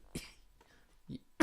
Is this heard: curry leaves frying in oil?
no